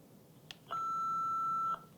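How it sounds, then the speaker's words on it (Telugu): An AED defibrillator powering on after a long press of its on button gives a single steady electronic beep lasting about one second, clear and close against a quiet room. "ఈ బీప్ సౌండ్ వచ్చేసి ఆన్ అయిపోతుంది."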